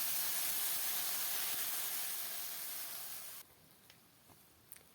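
Water poured into a hot frying pan of fried puti fish and green chilies hisses loudly in a steady, steamy rush for over three seconds, then cuts off abruptly, leaving faint light ticks.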